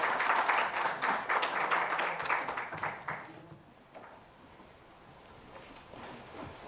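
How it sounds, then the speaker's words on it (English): Audience applause at a university student council inauguration ceremony, a brisk burst of clapping that fades out after about three seconds, leaving faint room noise with a few scattered sounds. "Can you give him a round of applause?"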